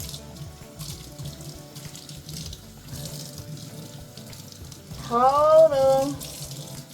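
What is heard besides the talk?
running water rinsing conditioner from hair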